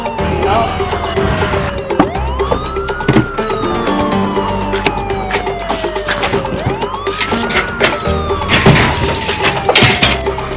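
An ambulance siren wails in repeated rising and falling sweeps, loud and close, over busy traffic noise with scattered clatter.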